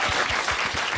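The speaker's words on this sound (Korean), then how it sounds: "박수 한번 보내주세요." During a special public broadcast of a political talk show, a studio audience gives a short burst of brisk, close applause.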